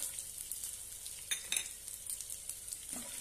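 Green chillies, a red chilli and peanuts sizzle and fry in a pan while being stirred, a steady close crackle with a few louder stirring scrapes and no voices.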